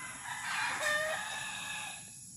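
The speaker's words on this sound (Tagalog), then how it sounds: "ang mga manok ni Father nag-ingay na" A rooster crows once, fairly distant and moderately faint, on a Siargao island property in the Philippines, the call rising and trailing off over a quiet outdoor background.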